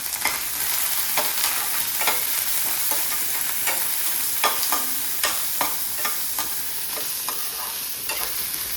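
Crushed garlic, ginger and chili being stirred into frying mutton for a garlic mutton dish, a steady sizzle broken by repeated spoon scrapes and clinks in an uneven rhythm, close and clear, no voices.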